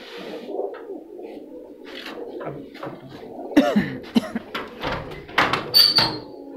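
Pigeons coo inside a loft holding young birds and larger females, the low rolling calls overlapping steadily with a few sharper knocks and rustles, a voice talking now and then.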